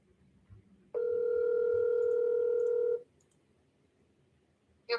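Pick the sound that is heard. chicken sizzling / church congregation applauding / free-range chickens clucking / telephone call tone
telephone call tone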